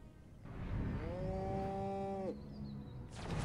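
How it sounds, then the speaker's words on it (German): Radioactive, explosive zombie cows in the video game Destroy All Humans!, with one loud, drawn-out moo rising and then holding, followed by a brief electronic game tone and a burst of noisy sound at the end. "Sie haben die armen Viecher genetisch verändert und in radioaktive, explosive Zombie-Kühe verwandelt!"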